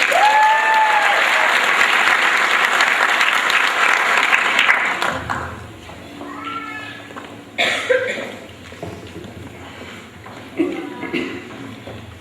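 Audience applause at a graduation ceremony fades out after about five seconds, followed by a quieter room with scattered coughs and throat clearing and a few faint voices.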